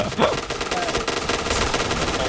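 Rapid bursts of K2C EBR rifle fire in the PUBG video game, loud and continuous across the moment, with faint talk underneath.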